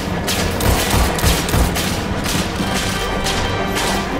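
Dense gunfire in the Destiny 2 Nightfall strike The Ordeal (The Arms Dealer), a steady fusillade of rapid shots and booms running through the whole stretch with no talk over it.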